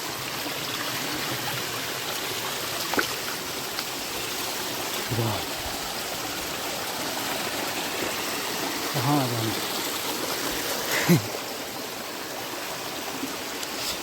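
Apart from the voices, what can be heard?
forest stream near a hidden waterfall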